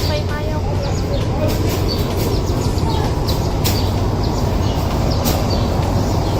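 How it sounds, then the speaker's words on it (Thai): A passenger train on the Chiang Mai to Bangkok line pulls into a station with a broad rumbling, squealing roar, loud and close, while people talk and birds chirp faintly in the background. "รถไฟมาแล้ว"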